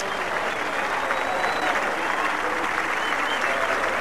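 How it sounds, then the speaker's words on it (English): Audience applause at an air show: a dense, continuous wash of clapping from a large crowd that holds steady and fairly loud for the whole stretch. "Well-earned applause."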